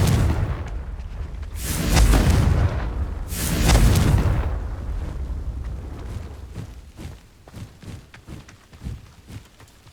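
Two heavy blasts from the Confringo spell in Hogwarts Legacy boom out close and loud, each rumbling for about a second, followed by lighter footsteps and small clatters as things settle.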